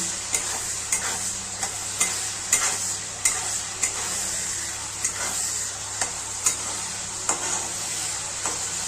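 Dried coconut frying in a pan as it releases its oil, giving a steady close sizzle with regular clinks and scrapes of a spoon stirring through it, with no talking.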